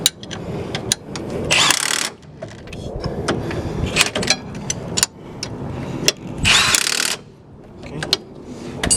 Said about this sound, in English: I'm going to tighten this too with the impact.